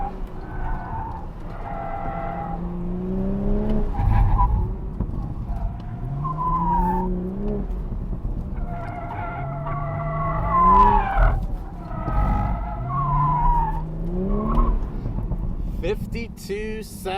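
A Toyota GR Supra on Michelin Pilot Sport 4S tires squeals and skids through an autocross course, with repeated rising tire howls over the engine's surging drone and bursts of acceleration, loud and close.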